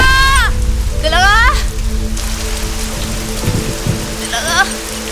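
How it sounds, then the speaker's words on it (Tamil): Sudden heavy rain pours down in a movie scene, a loud dense patter on surfaces that fills the whole stretch, with voices calling out over it. "திடீர்னு மழை வந்து பூரா நனைஞ்சு வச்சு"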